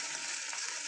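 Chopped onion and egg fry in a pan with a steady, dense sizzle that holds close and even throughout, with no voice.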